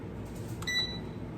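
An air fryer's control panel gives a single short electronic beep as the power button is pressed and the timer is set, a brief, clear tone over a low, steady background hum.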